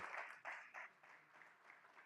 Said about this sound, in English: Big round of applause for Ian.